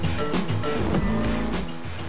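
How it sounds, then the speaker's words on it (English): A car creeping slowly over an off-road track in first gear with no pedal input gives a steady low engine drone, close and continuous, with small shifts in tone as it crawls over rough terrain. "the car is literally on first gear, going as slowly as it needs to, but as fast as necessary"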